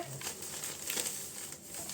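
Steady crinkling and rustling of a thin plastic bag being handled up close, continuous with small crackly bursts throughout.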